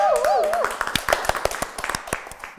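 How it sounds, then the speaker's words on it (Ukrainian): A comedy show audience breaks into scattered, uneven clapping after a brief wavering vocal sound, the claps sharp and close but thin rather than a full ovation. "Аплодисменти"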